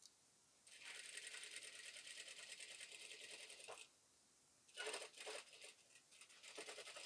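A sewing machine runs a long continuous stitch along the bottom seam of a Mao-collar dress, stops briefly, then resumes in short stop-start bursts, loud and close with no talk over it.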